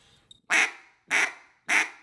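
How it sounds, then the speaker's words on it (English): Three sharp, evenly spaced duck quacks from a call ring out close and clear after a faint click. "the T at the end is cutting off the call to give you your quack"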